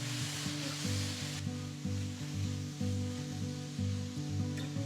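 Steady sizzling of onions and chopped tomatoes frying in a hot pan, with music playing underneath throughout.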